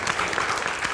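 Audience applause at an Indonesian panel discussion on energy subsidy reform, a brief, dense wash of steady clapping with no talk over it.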